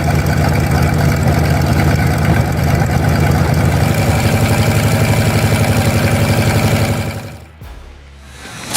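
A 550-horsepower Cheetah aircraft engine runs loud and steady with a deep, throbbing drone, then abruptly cuts out near the end, leaving a brief quieter stretch before a last burst.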